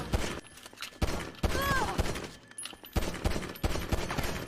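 Handgun fire in GTA Online as guards are taken out, a run of sharp shots spaced about a second apart over a steady game background, fairly loud and without talk.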